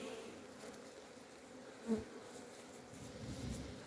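Steady hum of many honey bees buzzing close by, a dense continuous drone with a brief louder bump midway.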